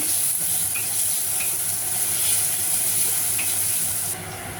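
Garlic sizzles steadily in a hot pan with a dense, continuous frying hiss and a few faint stirring clicks, close and alone; it drops slightly quieter near the end.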